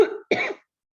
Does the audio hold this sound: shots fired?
no